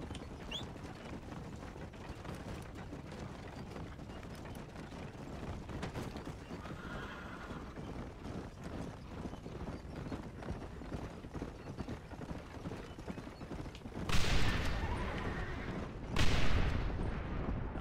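Horses in the Red Dead Redemption video game with clip-clopping hooves and neighing over a busy game backdrop, ending in two loud bursts like explosions or gunfire.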